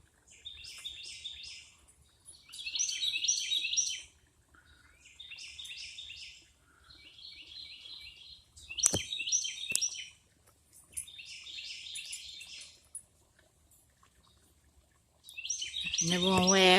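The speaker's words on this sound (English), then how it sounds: "And you can hear the birds singing." Birds sing outdoors beside a goldfish grotto in a quiet garden, giving repeated bursts of bright chirping phrases separated by short pauses, fairly near and clear, with a brief louder flurry at the end.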